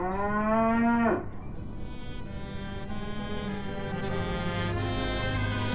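A game cow lets out one long, loud, close moo that slides off after about a second, leaving a steady low background hum and faint tones for the rest.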